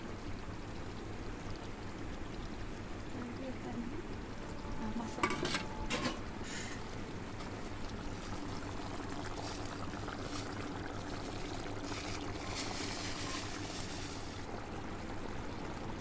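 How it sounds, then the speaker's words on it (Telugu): Water pours and splashes into a pot of cooking tomatoes for chicken curry over a steady background of sizzling and stirring, with a brief louder splash midway. "ఒక రెండు గ్లాసుల వాటర్ వేసుకోండి"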